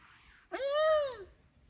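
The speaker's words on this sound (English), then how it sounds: "Just our gray catbirds." Gray catbird giving a single short, rising-then-falling mewing call, clear and fairly close against a quiet background.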